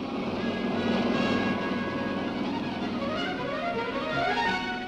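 Aircraft engine droning steadily overhead while flying over Chipiona on the Spanish coast, loud and continuous, with its pitch slowly sliding as it passes.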